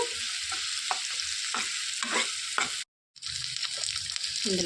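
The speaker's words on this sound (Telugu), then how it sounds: "పోపు అనేది మాడకుండా దగ్గరుండి మంచిగా వేయించేసుకోవాలండి" Spices for a ridge gourd curry tempering sizzle in hot oil in a pan, a steady crackling fry punctuated by scraping stirs, with a brief silent gap before the sizzle resumes.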